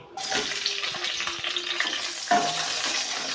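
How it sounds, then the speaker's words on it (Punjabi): Chopped capsicum and onion sizzle and fry in hot oil in a kadai for kadai paneer, a steady broadband crackle with stirring clatter and a louder burst of sizzle near the end, close and without talk. "ਇਹਦੇ 'ਚ ਪਾਵਾਂਗੇ ਆਪਾਂ ਨੇ ਜਿਹੜੀ ਸ਼ਿਮਲਾ ਮਿਰਚ ਤੇ ਪਿਆਜ਼ ਕੱਟ ਕੇ ਰੱਖੇ ਹੋਏ"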